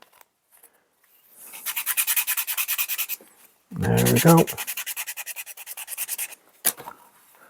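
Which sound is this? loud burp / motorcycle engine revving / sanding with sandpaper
sanding with sandpaper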